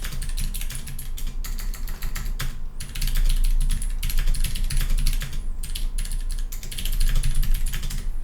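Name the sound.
typing on a mechanical keyboard with clicky switches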